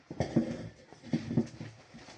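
A dog whimpers at a door in a few short, soft whining bursts separated by brief pauses, fairly faint and with no talking.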